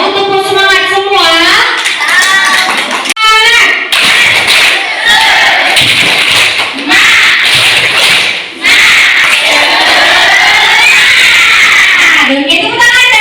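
Children on a museum field trip doing a rhythmic tepuk semangat spirit clap, loud sharp claps in quick patterned bursts mixed with energetic chanting voices close by.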